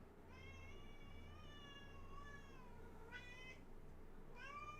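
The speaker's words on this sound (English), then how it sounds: "Heard this cat." A cat meows close by, a long drawn-out meow followed by two shorter ones, fairly faint over a low steady background hum.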